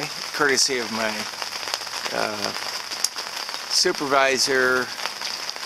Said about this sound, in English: Well, the rain has arrived.